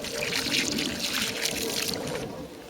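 Water poured from a watering can soaks into the soil around a newly planted fruit bush on an allotment, a steady close splashing rush for about two seconds before it cuts off.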